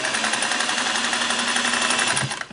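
A restored Singer Model 404 domestic sewing machine stitches at full speed, making a fast, steady, close mechanical chatter that runs unbroken for over two seconds before winding down.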